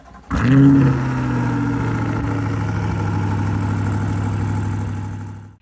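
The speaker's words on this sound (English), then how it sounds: "let's get you guys a little cold start" A Corvette engine cold-starts with a loud, close flare of revs, then settles into a steady, deep idle that holds for several seconds.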